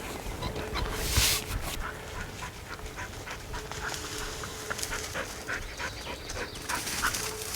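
A bird dog pants hard and rapidly out in the field while working scent, the quick breaths running steadily close to the microphone alongside rustling and a few faint whimpers.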